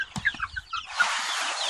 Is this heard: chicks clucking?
yes